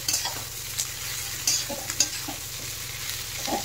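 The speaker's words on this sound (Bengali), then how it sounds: "দিয়ে এগুলো ভালোভাবে নেড়ে চেড়ে মিশিয়ে দিতে হবে।" Onion, ginger, garlic, capsicum, carrot and cabbage stir-fried over high flame for noodles, a steady close sizzle with quick spatula scrapes and light metallic taps against the pan.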